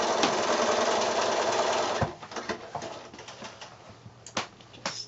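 A sewing machine stitches quilt block pieces together in a fast, loud continuous run for two seconds, then slows into short separate bursts of stitching.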